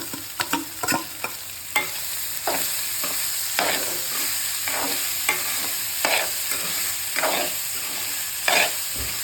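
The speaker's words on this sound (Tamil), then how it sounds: "நான் வந்து இப்போ சாதத்தை போட்டு கிளறிட போகிறேன்." Cooked rice being stirred into fried onions in a pan, a spoon scraping and clacking in irregular strokes over a steady soft sizzle, close and fairly quiet with no talking.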